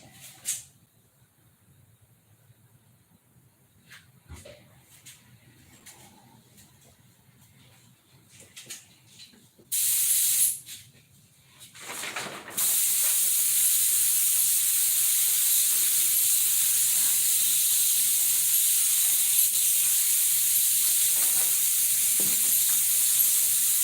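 Spray painting a coat: quiet handling noises and a short loud burst of hiss, then a steady, strong spray hiss that runs unbroken to the end.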